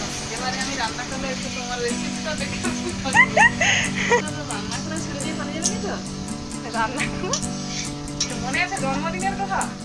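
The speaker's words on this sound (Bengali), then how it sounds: "মশলা মাখানো যে ম্যাগনেট করা ছিল ইলিশ মাছের পিসগুলো পুরোটাই কিন্তু তুলে দেওয়া হয়েছে আর ভালো করে কষিয়ে নেওয়া হচ্ছে" Spiced, marinated hilsa fish pieces sizzle as they are sautéed in oil in a pan, a soft, continuous frying hiss sitting under voices and background sound.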